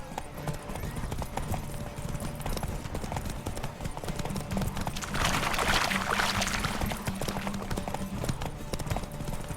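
Roach, Geralt's horse in The Witcher 3, gallops with rapid, steady clip-clopping hooves throughout, close and prominent, with rushing wind and game ambience rising midway and faint voices in the background.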